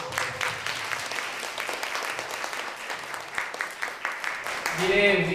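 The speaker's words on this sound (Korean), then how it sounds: "다시 한번 박수" Audience applause at a Korean talk event welcoming a Palestinian guest, steady clapping of a sizeable crowd throughout, with a voice speaking over it near the end.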